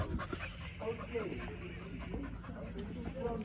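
A dog named Messi panting as it climbs the stone steps of the Roman amphitheater at Caesarea, quick rhythmic breaths heard beneath people talking and outdoor noise.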